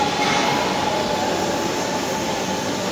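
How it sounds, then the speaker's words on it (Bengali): A metro train stands at Uttara North, the last stop, giving off a steady, loud electric hum and rumble that stays even throughout, with no talking. "ট্রেন থেমে আছে।"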